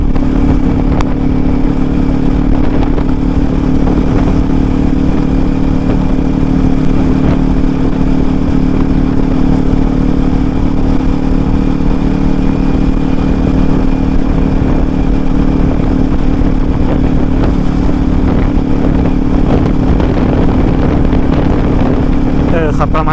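A Kawasaki Ninja 400 motorcycle cruises at moderate speed in a high gear, its engine giving a steady, continuous drone with wind rush and occasional clatter for the whole stretch.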